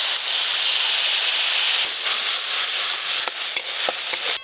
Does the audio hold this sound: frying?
yes